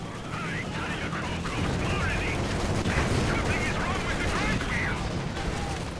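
Gunfire crackles in a Company of Heroes 2 battle between US Forces and Wehrmacht, sustained rattling suppressive bursts and distant booms under the steady drone of someone commentating.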